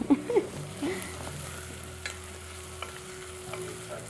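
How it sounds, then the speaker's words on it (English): Spices are stirred into pilau in a cooking pot, with a soft sizzle and a few light scraping strokes at the start, then a low, steady hum of frying. "Gonna stir it in."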